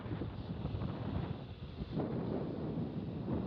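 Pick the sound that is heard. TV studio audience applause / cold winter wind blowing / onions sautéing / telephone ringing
cold winter wind blowing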